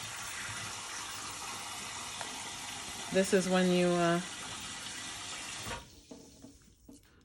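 Tap water pours into a cooking pot while oxtails are prepared, a short gurgling fill lasting about a second partway through, with someone speaking over the kitchen background.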